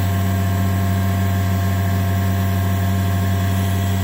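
1500W brushless DC spindle motor at 8,000 RPM on a G0704 CNC mill, running with a steady, constant hum and whine, even and uninterrupted throughout.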